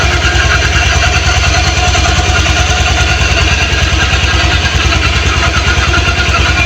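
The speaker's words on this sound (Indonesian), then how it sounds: "Dan ini suara mesinnya." Honda scooter-style motorcycle with idling stop, its engine idling steadily and close by in an even, continuous putter with no one talking.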